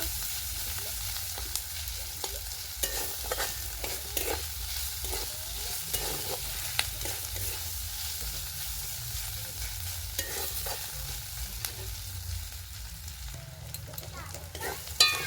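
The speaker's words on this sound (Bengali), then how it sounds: "ভালো করে ভেজে নেব।" Ginger-garlic paste frying with onions in a pan, a soft steady sizzle with frequent light scrapes and taps as it is stirred, fairly quiet and continuous.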